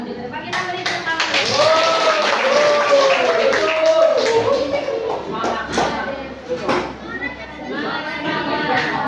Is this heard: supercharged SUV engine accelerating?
no